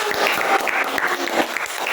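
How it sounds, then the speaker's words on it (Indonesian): A class claps for a group of students in an Islamic education lesson: dense, even applause from many hands filling the short stretch at moderate loudness, with no speech standing out. "tepuk tangan untuk kelompok 1"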